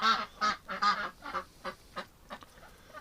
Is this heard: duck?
yes